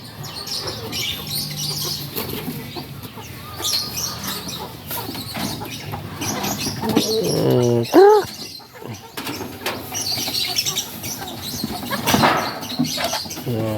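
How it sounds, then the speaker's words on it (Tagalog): Hungry five-month-old Rhode Island Red chickens on an integrated farm cluck and chirp through a steady, busy barnyard murmur, with a few louder calls standing out near the middle; there is no talk in the clip. "Gutom na ang Rhode Island chicken."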